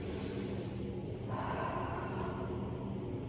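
A long, steady breath drawn and released during a resting Pilates stretch, close and continuous with a soft rush of air and no talking.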